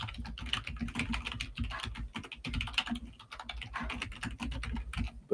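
Someone types a message on a computer keyboard, with a fast, continuous patter of close key clicks and occasional louder taps and no talking.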